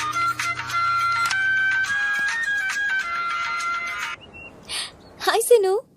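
A phone on speakerphone plays a loud, melodic electronic ringtone for about four seconds, then stops. Short voice sounds follow near the end.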